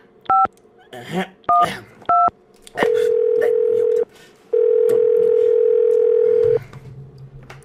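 A telephone call to grandma: three short bursts of keypad dialing tones, then two long steady ringing tones separated by a pause, clear and close, with a brief murmured word from a voice.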